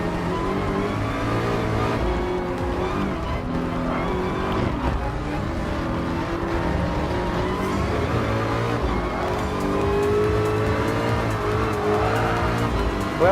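A Ford GT race car in Gran Turismo Sport roars loudly and continuously, its engine note rising and falling through gear changes while tires squeal repeatedly in the corners, with other cars running close by.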